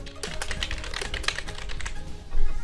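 Someone types on a computer keyboard while entering a name into a Word document header, a close, rapid run of clicking keystrokes with a heavier tap near the end, with no talking.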